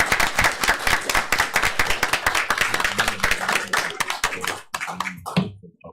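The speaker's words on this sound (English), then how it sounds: "And kids, give your parents a round of applause." Audience applause at a city commission meeting as scouts and parents are honored, brisk clapping from a modest group that thins out and fades to a few scattered claps near the end.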